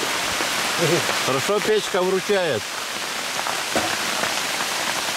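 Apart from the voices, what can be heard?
hail (graupel) falling outside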